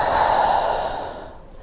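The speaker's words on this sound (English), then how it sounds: "take a nice long inhale through the nose. Exhale through the mouth." One long, breathy exhale through the mouth during a slow yoga flow, close and fairly loud, gently fading out over about a second and a half.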